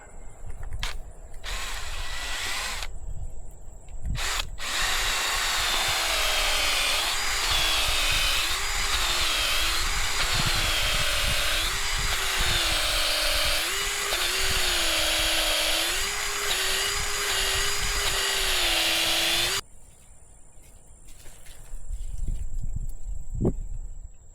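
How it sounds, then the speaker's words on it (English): A loud, whining power drill runs steadily for about fifteen seconds, boring a bait hole for a trap, with a wavering pitch as it bites in, bracketed by short clicks and rattles. "Gotta drill us a bait hole."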